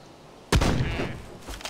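A single sharp rifle shot in the Deer Hunter VR hunting video game, loud and sudden after a quiet moment, followed by a short rumbling echo.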